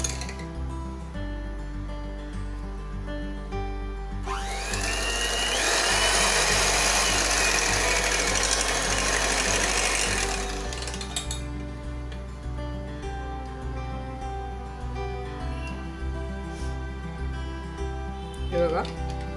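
A hand blender whirs loudly and steadily for several seconds as it blends a mango ice cream mixture to a smooth consistency. It starts and stops abruptly over a low background hum, and a voice talks around it.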